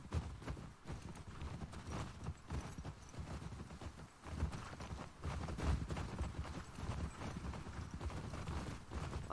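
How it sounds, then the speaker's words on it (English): Rhythmic clip-clop of horse hooves trotting steadily in the game The Last of Us Part II, moderately close, continuing throughout with a soft background hum and no talking. "Let's use my horse."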